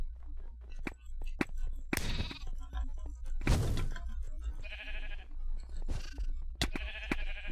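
Sheep bleat repeatedly in Minecraft, several short game bleats popping up in irregular bursts amid clicks, thuds and a crashing break sound, with players talking excitedly in the background.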